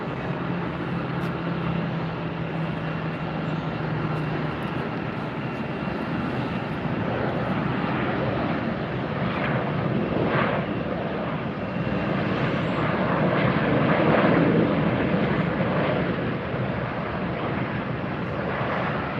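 A Copa Airlines airliner on approach to land at Tampa airport, its steady jet roar sustained throughout and swelling slightly louder near the end, with no voices over it.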